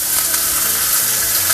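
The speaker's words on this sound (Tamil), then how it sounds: "கடுகு நல்லா வெடிச்சிட்டு" Mustard seeds and urad dal spluttering and crackling in hot oil while tempering for a bitter gourd kuzhambu, a loud, steady, dense sizzle with tiny irregular pops throughout, close up and with no voices.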